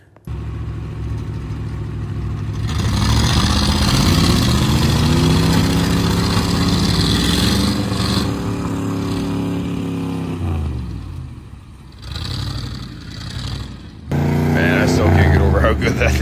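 A two-wheel-drive tow truck's engine labors through a mud pit, running in a loud, steady drone with swelling revs that dip briefly and then surge back up.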